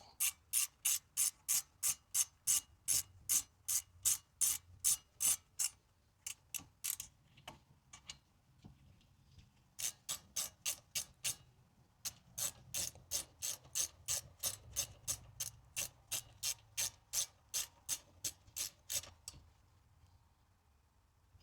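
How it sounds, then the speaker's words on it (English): Ratchet wrench cranking brake caliper bolts tight on a 2010 Buick Lucerne during a rotor and brake job, rapid loud clicking bursts in repeated runs with short pauses between strokes. "Take my 14 and tighten it back up, starting with the top bolt."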